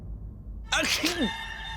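A single short sneeze from a character in a French-dubbed Indian TV drama, sharp and close, followed by a faint sustained musical tone in the background.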